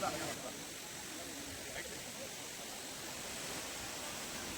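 Silver Falls waterfall near Kodaikanal gives a continuous, even rushing roar of falling water at moderate distance, steady throughout.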